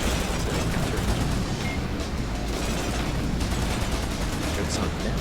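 Rapid cannon fire in the BallisticNG futuristic racing game rattles without a break as a dense, loud, gritty barrage, with booming low end under the racing noise.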